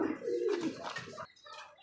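A silver pigeon coos close by, a low throaty burbling call followed by a softer trailing note.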